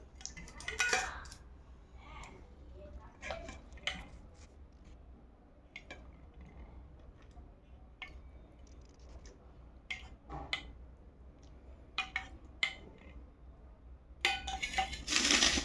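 A metal plate and utensils clink and clatter in a home kitchen while the table is set for hot parathas, with scattered sharp taps and scrapes, moderately close, louder toward the end.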